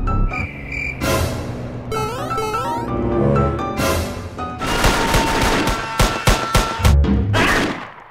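Gunfire in a Roblox video game: loud bursts of rapid shots with sharp cracks, broken up by music-like game tones, alternating dense volleys and short pauses.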